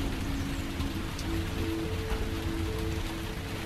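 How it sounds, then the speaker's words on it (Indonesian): Heavy rain pours steadily outside a house, a dense, even hiss of drops on surfaces filling the whole stretch with no voices. "Masih terdengar suara hujan yang cukup deras dari luar rumah."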